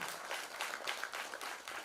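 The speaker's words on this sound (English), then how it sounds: "Give a big applause to her for her valuable time" Audience applause at an award ceremony for a hackathon grand finale, a dense, steady wash of many hands clapping together, faint and distant throughout with no clear voices above it.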